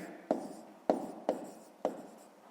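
Pen or chalk writing out a fifth-grade math solution, four distinct tapping strokes spaced roughly half a second apart, close and fairly quiet, with no talking.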